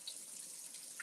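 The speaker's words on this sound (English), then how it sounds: "All right, let me clean my hands." Hands being washed under a running kitchen tap, a steady hiss of flowing water with faint splashing, close and unbroken, no voices.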